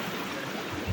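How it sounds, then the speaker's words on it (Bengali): A waterfall stream beside a temple rushes in a steady, full, nearby wash of flowing water. "দেখুন এখান থেকে ঝর্ণা যাচ্ছে"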